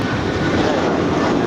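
A 22-year-old American Airlines Airbus A320 jet takes off from runway 25 right at Los Angeles International Airport, its engines a loud, steady, broadband roar throughout.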